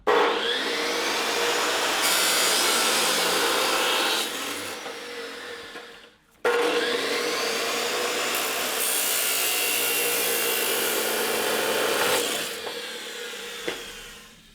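A power saw cuts metal flat bar for a golf cart body in two long, loud, steady grinding passes, separated by a brief stop and tapering off at the end.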